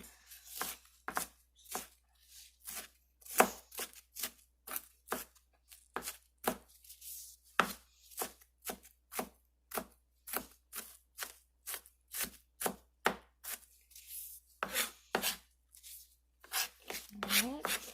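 A knife finely chopping half an onion on a cutting board, close and crisp, with fast rhythmic taps in quick runs separated by brief pauses.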